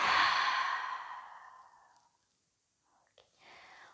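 A long, breathy exhale during a yoga breathing exercise, loud at first and fading into silence, then a softer breath near the end.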